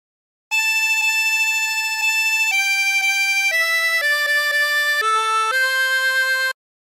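A chromatic harmonica plays a slow phrase of House of the Rising Sun, a series of sustained reedy notes stepping through different pitches, clear and close with no talking.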